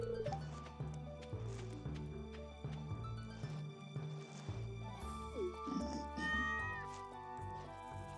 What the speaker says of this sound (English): Did you hear the cat or can you see the cat?